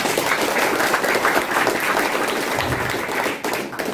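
A crowd at a company brainstorming meeting gives loud, sustained applause, dense clapping filling about four seconds before easing slightly near the end.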